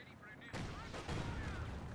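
Heavy blasts of Raketenwerfer anti-tank fire in Company of Heroes 2, a sharp broadband burst followed by a sustained rumbling wash of battle noise, loud and close with a second impact about half a second later.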